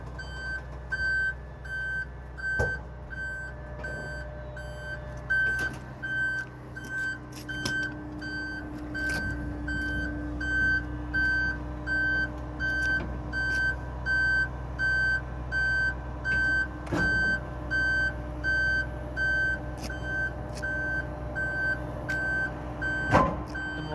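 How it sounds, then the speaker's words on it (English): Steady, evenly spaced electronic outrigger warning beeps repeat from an aerial truck over a low idling engine rumble, with occasional clunks and clicks nearby. "And you'll hear the beeping. That's when you know you can operate your outriggers."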